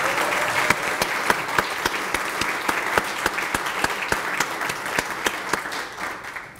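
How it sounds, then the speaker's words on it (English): Sustained audience applause at a city volunteer recognition evening honoring commission members, a dense wash of many hands with sharper individual claps poking through, steady and fairly close, fading slightly at the end. "If you'd stand up and receive the applause, you do an absolutely tremendous job for the city"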